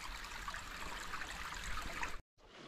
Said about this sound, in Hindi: वाटरफॉल पहुंच चुके हैं हम लोग, और थोड़ा पानी ख़त्म है, उतना पानी नहीं है अभी फ़िलहाल